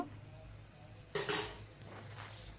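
A spoon clatters and scrapes briefly against a pan while Yippee noodle masala is stirred with a little water; one short burst of metal-on-pan noise stands out from an otherwise quiet kitchen.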